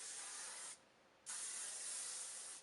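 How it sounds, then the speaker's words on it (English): Hairspray sprayed onto cooled curls in two close, loud hissing bursts, separated by a brief pause of under a second. "you're going to want to hairspray it again with the same hairspray"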